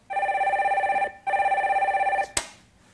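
A telephone rings for an incoming call during a call-in broadcast: two long trilling rings separated by a short gap, then a sharp click as the handset is picked up, close and loud.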